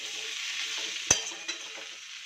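Chicken fries in butter with onion, tomato and capsicum in a pan, making a soft, even sizzle. A few sharp utensil clinks against the pan cut through as it is stirred.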